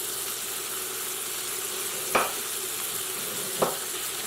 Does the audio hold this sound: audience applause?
no